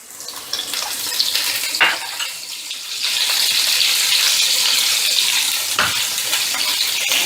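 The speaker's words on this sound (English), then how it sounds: "Once our garlic is sauteed a little, we'll add in our green chilies." Garlic and green chilies sauté in a hot pan, a steady close sizzle that swells louder about halfway through, with a couple of brief stirring scrapes and no talking.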